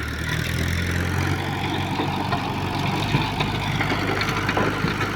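A tractor pulling a rotavator runs through a farm field with a steady, unbroken engine drone and dense mechanical rattle that holds at constant volume close by.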